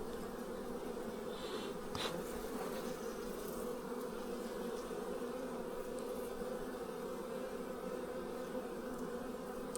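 Honeybees from a large apiary of hives in remote New Zealand bush during winter, with a steady, dense buzzing that holds close and continuous throughout, no talking.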